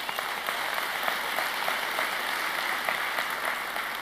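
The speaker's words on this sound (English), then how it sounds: "Come on, give them a big round of applause." Audience applause at an apostolic leadership summit in Cape Town, a steady wash of many hands clapping at moderate loudness for about four seconds with no one speaking over it.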